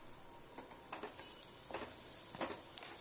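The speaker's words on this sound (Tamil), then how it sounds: "ஒரே ஒரு சின்ன சைஸ் தக்காளி அதையும் போட்டு வணக்கி விட்டுக்கலாம்" A small tomato sautés in a pan for fenugreek rice, making a quiet, continuous sizzle with soft stirring scrapes every second or so.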